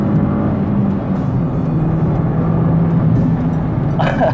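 A Mini Cooper S drives along, its engine a steady loud low rumble with road noise heard from inside the car, with no talk.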